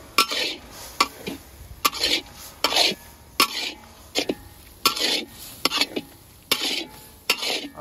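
A spoon stirs fenugreek (methi) with peanut powder and coriander in a pan, producing repeated sharp scraping knocks at an irregular rhythm, close and moderately loud.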